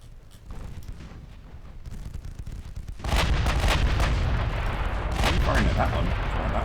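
Heavy naval gunfire booms from warship batteries in the naval combat game Ultimate Admiral Dreadnoughts, a muffled rumble that swells into a loud, sustained barrage of overlapping blasts and crackling impacts with no voices.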